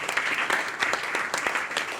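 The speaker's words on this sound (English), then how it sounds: "Why don't you give them a nice round of applause," Audience applause at a blues guitar workshop, a steady wash of many hands clapping at close range with no voices over it.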